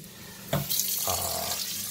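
Kitchen tap running water into a cooking pot for boiling, a brief close splash that starts abruptly and then settles into a steady gush, with no voices.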